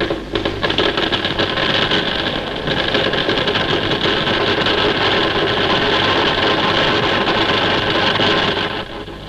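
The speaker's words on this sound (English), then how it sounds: "The weld commences." Flash butt welding machine joining steel pipeline sections for a wartime undersea fuel line, giving a loud, steady buzzing electrical hum with rough crackle that holds for the whole stretch, then eases at the end.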